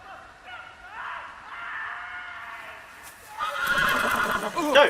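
A horse in a Game of Thrones video game whinnies in a long, shrill, wavering call, then neighs again louder and more frantically, close and prominent.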